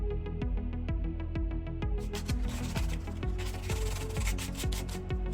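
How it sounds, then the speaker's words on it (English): Steady hand sanding of hardened wood filler with P180 sandpaper, a rhythmic back-and-forth rasp on a hard surface, close and continuous. "For sanding I used P180 sandpaper and hand sanded the surface."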